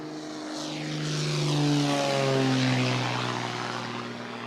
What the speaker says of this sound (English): Listen to that engine as he comes by overhead here on this river strip today